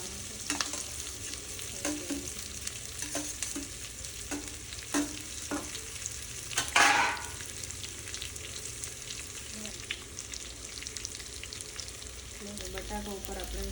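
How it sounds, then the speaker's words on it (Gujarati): Boiled potatoes tossed into cooked tomatoes in a pan for suki bhaji, with steady frying sizzle and repeated stirring scrapes and clinks of a spoon, plus a brief louder burst partway through; no talking. "ટામેટા રેડી થઈ ગયા છે, તો હવે એના પર બાફેલા જે બટાકા છે તે નાખી દેવાના છે"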